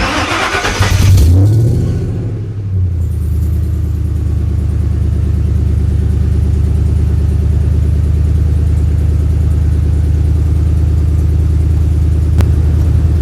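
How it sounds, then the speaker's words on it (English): A truck engine cold-starts with an exhaust leak: a brief cranking burst, then a loud, steady, close rumbling idle that drones on alone with no talk. "so hope you guys enjoyed this terrible cold start."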